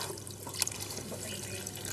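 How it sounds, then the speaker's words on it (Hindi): Steady rush of tap water filling a container, a continuous broadband hiss with a faint clink partway through, no voices. "तुम्हारे लिए पानी भर रहा था"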